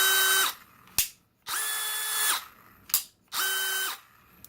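A DeWalt DCD996 brushless 20V hammer drill in hammer mode revs up in three bursts, each a whining high-speed spin with a rattling chatter that winds down between pulls of the trigger.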